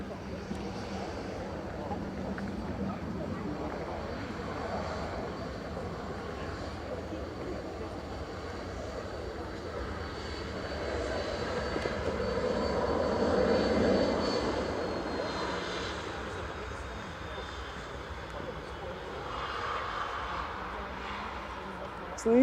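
An easyJet jet airliner pushes back at Manchester Airport, its engines giving a steady, fairly distant whine and rumble that swells slightly midway, with a voice talking over it.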